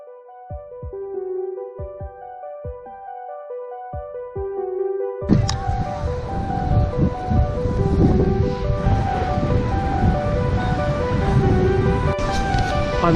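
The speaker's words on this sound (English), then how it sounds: "It's too windy, it's too choppy," Strong wind gusts on the Dorset coast with choppy water, a broad roaring rush that rises suddenly after a stretch of quiet music and keeps up loud and steady to the end.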